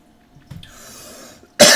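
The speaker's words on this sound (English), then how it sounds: "I'm sorry. I just coughed." A single sharp cough bursts out at the end, close and loud, after a quiet stretch of faint breathing and room tone.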